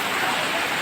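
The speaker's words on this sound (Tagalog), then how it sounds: "Malakas talaga ang ulan." Heavy rain pours down in Bayog, Zamboanga del Sur, a thick, continuous broadband hiss that stays loud and even throughout, with no voices or other sounds breaking through.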